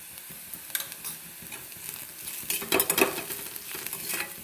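Sautéed onions frying in a pan as turmeric is added for a potato dish, heard as a steady quiet sizzle with scraping stirs that grow louder and busier toward the middle.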